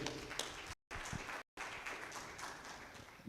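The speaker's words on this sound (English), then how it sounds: "Please, a round of applause" Audience applause at a natural capital summit, a dense patter of clapping from a conference crowd, broken by two short dropouts of silence before continuing steadily.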